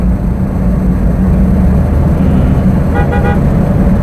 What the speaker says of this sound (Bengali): অবশ্যই হর্ন দিবেন এভাবে